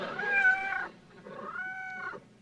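A person imitates a cat's meow twice, a drawn-out nasal wail followed by a softer, slightly higher second meow, close and clear.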